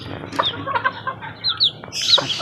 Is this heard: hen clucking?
yes